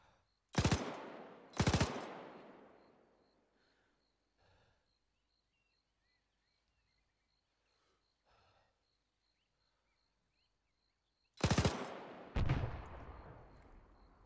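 Gunfire in the military shooter game Arma 3: a pair of loud, sharp reports near the start, a few faint distant pops in the middle, then two more loud shots with decaying echoes near the end.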